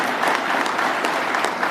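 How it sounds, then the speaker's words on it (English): A crowd at a basketball awards presentation claps steadily, a dense, even patter of many hands throughout, with no voices over it. "go ahead, clap"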